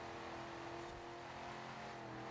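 A car engine revs hard under heavy throttle while climbing a hill on a track, with a steady, sustained drone and layered harmonics that persist throughout. No voices are present.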